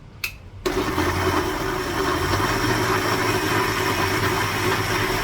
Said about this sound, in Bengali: তাই এটাকে আরো একবার ব্লেন্ড করে নিচ্ছি